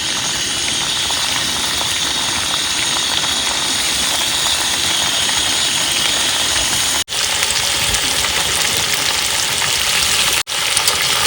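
Meat hitting a pan of fried onion and ginger-garlic masala, a loud, dense, continuous sizzle with two brief dropouts and no talk.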